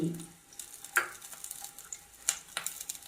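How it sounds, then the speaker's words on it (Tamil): Onion, garlic and tamarind frying in hot oil for capsicum chutney, a soft continuous sizzle with a few faint clinks and stirring scrapes. "எண்ணெய் சூடான உடனே வெங்காயத்தை போட்டோம் வெங்காயம் பூண்டு புளி"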